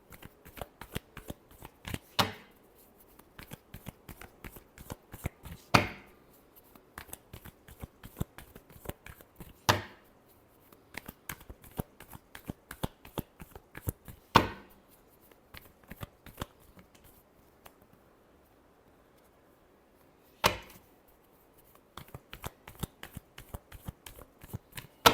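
Tarot cards shuffled by hand, with soft riffling and patters punctuated by several sharper snaps and taps at irregular intervals, close and quiet, with no voices.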